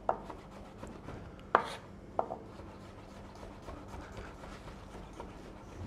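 A kitchen knife strikes a cutting board in a few sharp, close chops while garlic is being sliced, with quieter scraping between strikes and a faint hum underneath.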